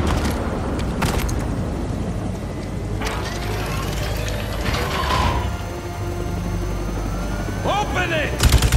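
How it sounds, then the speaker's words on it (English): Cannon fire in the Spider-Man 2 video game on PS5 comes as several sharp booms and clanking mechanical hits scattered through the clip, with a final burst of bangs near the end and in-game voices heard. "cannon!"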